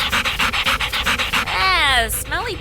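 A husky sled dog pants in fast, rhythmic breaths up close, then lets out a rising, wavering whine at the end.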